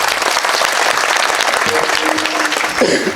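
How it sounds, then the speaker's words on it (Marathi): Dense, continuous audience applause greets a guest at a Marathi devotional kirtan gathering, loud and steady for about three seconds with no talking over it. "दादांचं एकदा सर्वांनी टाळी वाजवून स्वागत करा।"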